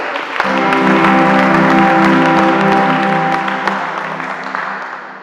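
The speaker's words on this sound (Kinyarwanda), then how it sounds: "dukomere imana amashyi" A congregation at a church sermon bursts into loud, dense applause that holds steady for several seconds, with many hands clapping close together, then slowly fades out.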